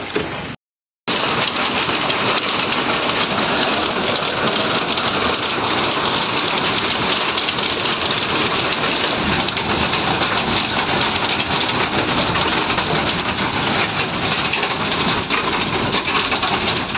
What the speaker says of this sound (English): predicted spectacular thunderstorms hit Orne and Calvados late in the day